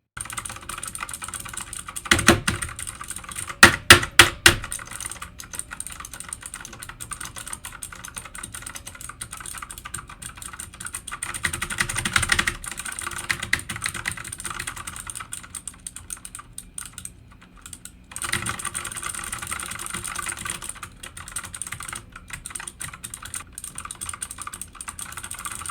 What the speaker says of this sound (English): I just started beating the ever-loving crap out of my keyboard